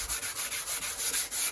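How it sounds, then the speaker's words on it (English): Steady close rubbing of sandpaper over undercoat on an aftermarket Mugen spoiler for a Honda FN2 Type R, a continuous rhythmic scrubbing stroke with no voices. "then I'm going to sand it all, and then I'll get it ready for some Nighthawk"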